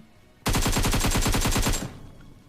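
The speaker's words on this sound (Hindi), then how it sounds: "तो करना क्या था, बंदूक चलानी पड़ेगी। AKM," A loud, sustained burst of automatic AKM rifle fire in the mobile battle royale game BGMI, roughly twenty fast rounds lasting over a second before cutting off, with no talking.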